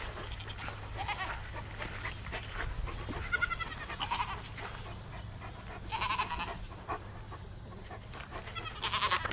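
A goat bleats repeatedly in loud, wavering calls spaced a few seconds apart, set against a steady low hum and outdoor background noise.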